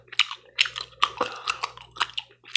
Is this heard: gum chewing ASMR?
yes